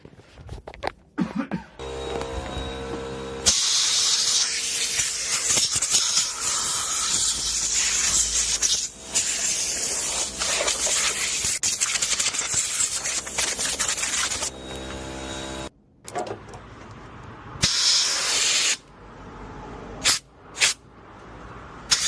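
Cleaner sprayed onto a PS5 console circuit board to strip old flux near the HDMI port, long loud hissing bursts with rubbing and scrubbing between them, then several short sharp spray blasts near the end, close and without talk.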